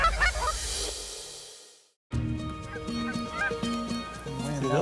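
Canada geese honking in a busy flock during an early-season waterfowl hunt in Saskatchewan, loud overlapping calls near and far, broken by a short silent gap before the honking resumes.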